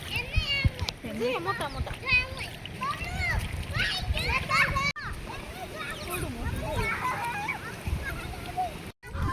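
People bathing in a river splash and slosh water in steady, close bursts, mixed with a crowd of excited children's voices and shouting, while someone talks over the commotion throughout.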